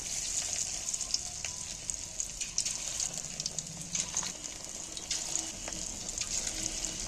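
Fish pieces frying in hot oil give a continuous, moderately quiet hiss and crackle with scattered small pops, steady from start to finish.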